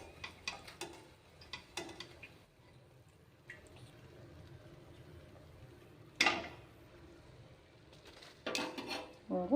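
A slotted metal ladle scoops fried snacks out of hot oil, giving sharp metallic clinks and scrapes against the pan in scattered bursts over a low background sizzle, with no talking.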